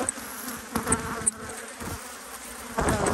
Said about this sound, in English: Lots of bees down in there.